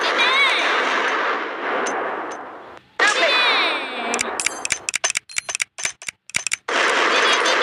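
Bursts of rapid, sharp gunfire and blasts from the game Kick the Buddy cut in and out, with loud sustained noisy stretches between them.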